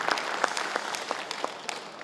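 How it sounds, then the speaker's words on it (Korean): Attendees at a launch ceremony for a regional jobs project in Gyeongbuk clap in thanks, producing moderate, steady applause with a few sharp individual claps standing out nearby. "감사의 박수 부탁드리겠습니다"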